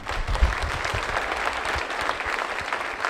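Applause from a large audience at a French political rally, a dense, steady clatter of many hands clapping at close range with no voices over it.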